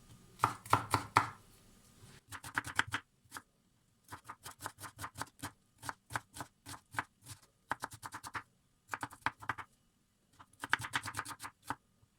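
An onion is chopped by hand with a knife on a board, giving close, crisp rapid clusters of knife taps separated by short pauses, fairly quiet and with no talking.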